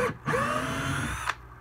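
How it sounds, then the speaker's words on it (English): A power drill whirs steadily for over a second at close range, starting and stopping with a short motor spin-up and wind-down. "get your drill"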